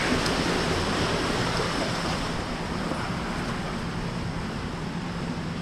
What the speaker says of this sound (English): a raging torrent coming right through.